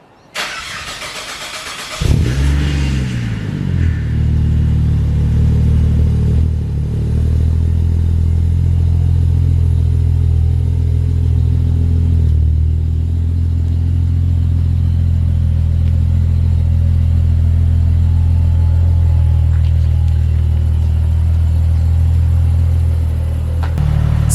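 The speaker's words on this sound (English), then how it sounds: "Power steering pump did have a bit of a whine starting up, but then I was just driving it out" A fire-damaged Ford Falcon XR6 Turbo cranks and fires up, its power steering pump whining briefly, then settles into a loud, steady, close engine drone as the car drives out.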